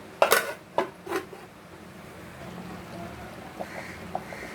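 A lid is set down on a pot of fish curry simmering on low heat: a few sharp metallic clanks close by, then a quiet stretch with faint light clinks.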